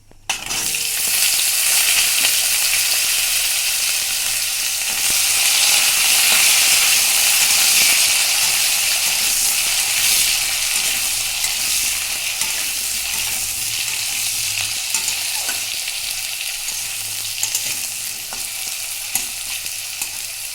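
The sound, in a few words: potatoes frying in oil for pabda fish curry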